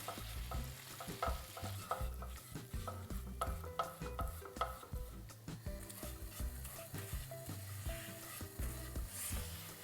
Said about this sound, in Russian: Добавляем 40 граммов муки и обжариваем 2 минуты.